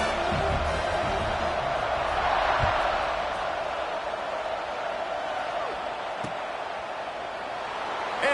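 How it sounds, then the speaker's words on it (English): Football stadium crowd at a Notre Dame game buzzing after a score and extra point, a steady loud wash of many voices and murmur filling the whole stretch without letup. "this crowd is buzzing after that last score"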